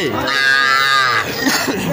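A cow gives a single long, loud moo, rising and holding before trailing off, with faint crowd murmur around it at a cattle market.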